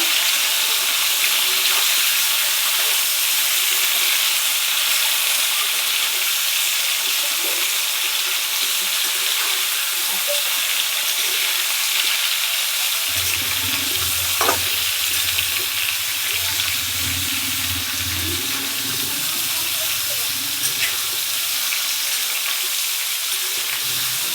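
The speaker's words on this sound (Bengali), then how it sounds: "হালকা করে একটু ভেজে নিচ্ছি তেলে" Jackfruit lightly frying in oil in a pan, a continuous bright sizzle throughout with stirring and clinking noises joining in the second half, close and steady with no talking.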